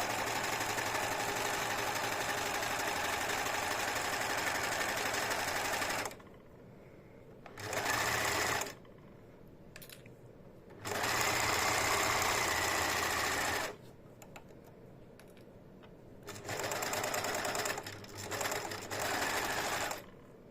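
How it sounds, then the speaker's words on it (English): An overlocker sews fabric for cushion covers, a loud, fast mechanical whirr running in several bursts that stop and start with short quiet gaps between them. "that's why I love using an overlocker, because it does the construction and the edge finishing at the same time."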